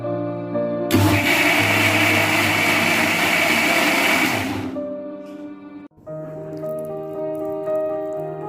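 A blender whirs loudly for about four seconds, mixing vattayappam batter with yeast, then cuts off, leaving a quieter background hum.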